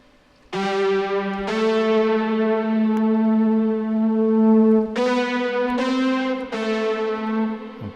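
Sustained SynthMaster synthesizer chords ring out one after another through an AudioThing Frostbite reverb, each swelling and hanging with a washy reverb tail, bright and close.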